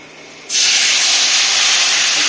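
Water poured into a hot pan of fried onions sets off a sudden loud hiss that starts abruptly and holds as a steady, close sizzle.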